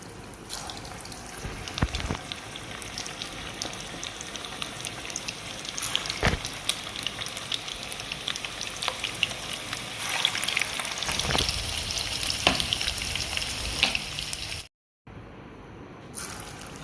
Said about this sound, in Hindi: कोफ्तों की फ्राइंग करने लगी हूँ।